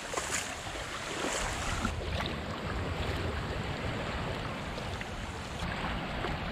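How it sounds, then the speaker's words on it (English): Trindle Spring Run, a clear spring-fed stream, pours into Conodoguinet Creek with a soft, constant rushing wash of flowing water, faint and even, with occasional light wind buffeting and no voices. "Trindle Spring Run coming down, emptying right out into the creek"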